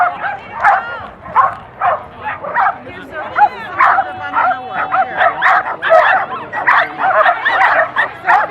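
Several dogs bark and yip excitedly in rapid, overlapping bursts at an indoor flyball relay race arena, loud and close, with a busy crowd atmosphere around them.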